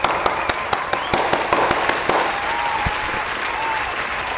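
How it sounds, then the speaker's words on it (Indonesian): Passengers clap after an airliner lands on the new runway 24 at Jakarta's CGK airport; a burst of sharp, scattered claps fills the first two seconds, then fades into steady cabin noise with a few stray claps. "Tepuk tangan dulu dong."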